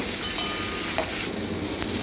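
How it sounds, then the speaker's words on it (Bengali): Okra fries in hot oil with turmeric, giving a steady, close sizzle broken by a few light stirring clicks. "ভেন্ডিটা ভাজা করে নেবো, ভাজতে দিচ্ছি।"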